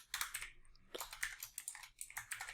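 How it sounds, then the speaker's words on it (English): Keystrokes on a computer keyboard while code is entered in a C# programming lesson: a close, brisk run of clicky taps in uneven bursts, with no talk. "we're going to go ahead and type console.readLine"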